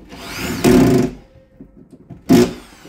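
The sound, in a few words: driving screws into drywall on a stud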